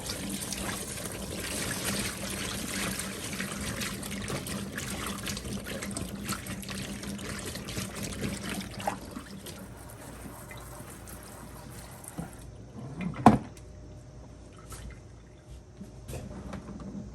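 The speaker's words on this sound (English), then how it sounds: "I always wash my peppers and cucumbers in cold water." Cold tap water runs over fresh peppers and cucumbers being washed in a kitchen before pickling. The flow is steady for several seconds, then fades to quieter drips and rinsing, with a single clunk near the end.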